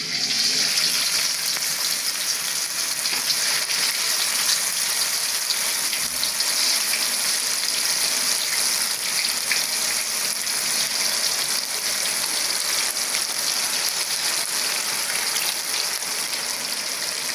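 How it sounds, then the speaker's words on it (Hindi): Spiced chicken pakora sizzles steadily in hot oil in a wok, a constant bright frying hiss with small crackles that holds at an even level for the full length, with no voices over it. "अब इसके अंदर फ्राई करूँगी मैं चिकन जो मैंने मसाले लगा के रखे हैं"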